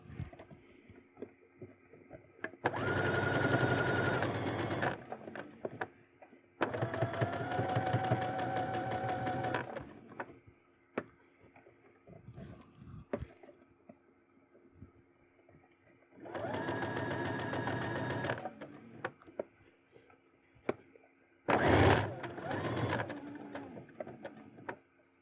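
A sewing machine stitches a bustier in three long bursts of rapid mechanical whirring separated by quiet pauses, with a short final burst near the end and faint handling noises between runs.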